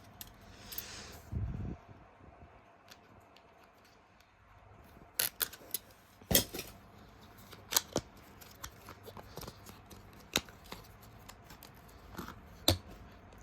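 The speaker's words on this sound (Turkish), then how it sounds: "Makasla açmam lazım." Scissors snip and cut through packaging in a series of sharp, close clicks and crunches, spaced irregularly, with quiet rustling between them.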